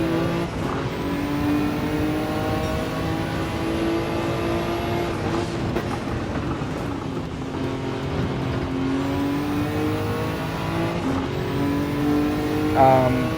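Steady car engine drone from a slowly driven race car in Gran Turismo 7, a continuous harmonic hum holding fairly even in pitch and loudness throughout, with no pronounced revving.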